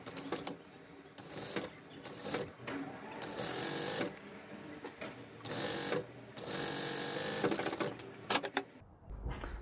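A sewing machine stitches a linen bonnet seam in several bursts of whirring and rattling, each a few seconds long, close and fairly loud, with short pauses and handling clicks between runs.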